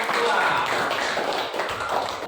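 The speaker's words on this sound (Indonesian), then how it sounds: "Tepuk tangan untuk kelompok" Students clap for a group in a school classroom, a steady patter of applause lasting a couple of seconds at moderate loudness.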